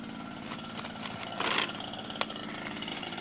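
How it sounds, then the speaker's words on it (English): A backpack leaf blower running during yard cleanup, a faint, steady two-stroke engine drone with a brief louder rush of air partway through, somewhat distant and with no speech. "with the backpack blower on"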